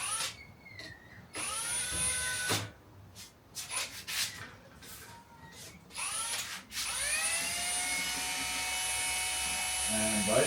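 A power drill spins in short bursts and then in a long steady whir, with a faint rubbing, winding sound under it as it spools fishing line onto a reel.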